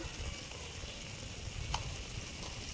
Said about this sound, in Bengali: এখন ভালো করে মশলাটা আমি ভেজে নেব